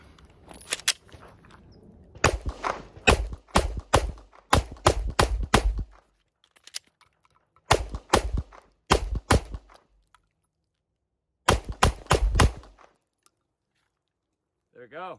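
A custom Glock pistol fires in sharp, loud bursts of rapid shots, with clusters of several reports separated by short pauses, close to the listener and outdoors at a range.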